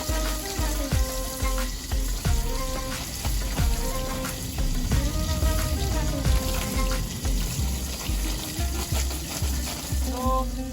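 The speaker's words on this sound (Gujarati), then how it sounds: "હા મિત્રો આપણે હવે ફુલાવર ધોઈ નાખીશું" Running tap water splashes over cauliflower being washed in a kitchen sink, a steady close hiss broken by clattering handling sounds and irregular knocks throughout.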